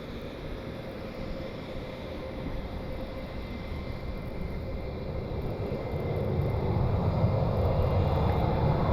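A jet airliner taxis slowly at Cleveland airport, its engines giving a steady broadband roar close by that grows louder over the last few seconds.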